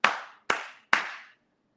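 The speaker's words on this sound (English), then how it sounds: "Slow clap for CT." Three slow, deliberate hand claps, close and crisp, each ringing out briefly before the next, evenly spaced about half a second apart.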